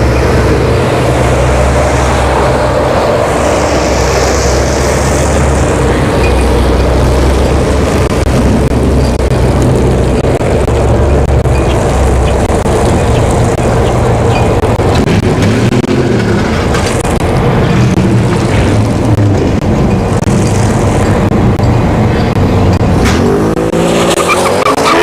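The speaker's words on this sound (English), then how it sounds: "So the Panamera Turbo here in the right lane, going up against the Genesis" A Porsche Panamera Turbo and a Genesis G70 launch side by side down the ShowTime drag strip, roaring loudly and continuously with screeching tires throughout.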